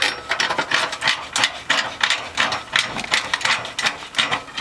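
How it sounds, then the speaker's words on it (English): A ratchet tightens nuts during a TUF-1 installation, a close, rhythmic series of quick clicking bursts repeating about twice a second with no voices. "make sure all these nuts are tight"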